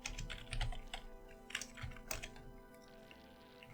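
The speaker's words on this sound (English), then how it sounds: "I'm just going to type in here box shadow" Quick, light keystrokes on a computer keyboard, a close, soft patter of typing with short irregular pauses.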